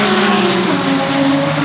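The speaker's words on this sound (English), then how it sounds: "This Acura sounds nice, dude." An Acura engine revs at a dragstrip, a loud, steady, close roar with rising and shifting harmonic tones that stays strong throughout, no speech over it.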